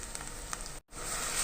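A large, thinly sliced onion sautéing in a pan for kuska, a steady soft sizzle broken by a brief gap, with no voices.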